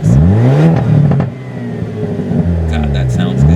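A 2022 Hyundai Elantra N in N mode revs hard, its exhaust popping and crackling as the engine note rises and falls twice, loud and close with a voice talking over part of it.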